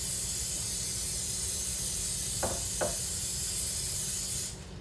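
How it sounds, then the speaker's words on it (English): Cooking spray hisses onto an 8-inch square baking pan in two short, close bursts over a steady broadband background hiss, which then drops away near the end. "I'm going to spray my baking pan"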